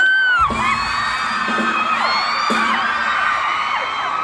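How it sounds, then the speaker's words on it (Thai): An audience below the stage at a fan meeting shouts and cheers loudly. Shrill, high-pitched screams and whoops rise and fall continuously throughout. "ข้างล่างเมื่อกี้ตะโกนว่าอะไรนะโอม"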